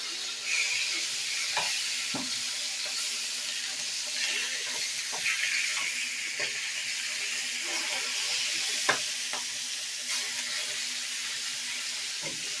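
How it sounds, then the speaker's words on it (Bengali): Rohu fish pieces sizzle steadily in a frying pan as they are turned over, with soft scrapes and clicks of the spatula breaking through the continuous close frying hiss. "উল্টে ওপাশটাকেও ভেজে নেব।"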